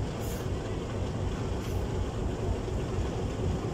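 A locomotive pushes a train in reverse at Kohat Railway Station, giving a steady, loud rumble of engine and rolling wagons that holds evenly throughout with no speech.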